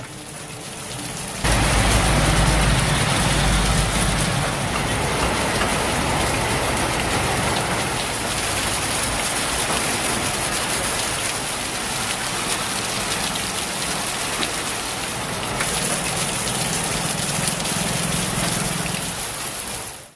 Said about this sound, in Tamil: நன்னிலம் உள்ளிட்ட சுற்றுவட்டார பகுதிகளில் 1 மணி நேரத்திற்கு மேலாக மழை பெய்தது